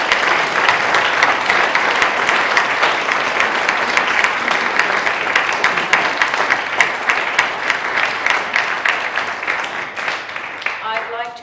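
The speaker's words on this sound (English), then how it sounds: "Please, a round of applause for" A London Pride audience applauds at the close of a history panel, loud dense clapping filling the entire stretch steadily, thinning slightly toward the end as a few sharper claps stand out.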